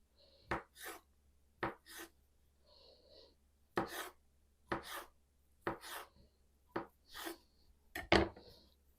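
A knife slices crab sticks into strips on a cutting board, giving about ten crisp, separate cuts in an uneven rhythm, each a short sharp thud with some scraping, close by and with no talk.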